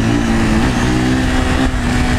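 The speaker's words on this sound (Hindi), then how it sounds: "एकदम ओके चल रही है बाइक।" A Pulsar 220F motorcycle engine drones while riding, a loud steady hum with a rough low-pitched note that barely changes, heard up close with no talking.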